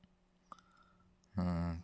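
A computer mouse clicks faintly on a desktop icon in Windows, with a couple of soft, isolated clicks in near silence before a burst of close speech takes over.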